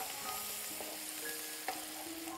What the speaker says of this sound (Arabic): ثوم خفيف مع بصل مطحون ناعم، بنحركهم